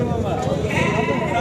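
Sheep bleat briefly amid the steady murmur of a busy goat and sheep market in Sangola, with people talking close by throughout.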